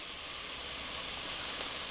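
Vegetables and seasonings sizzle steadily in a pan while cooking for braised chicken, giving a constant, close hiss with no pauses.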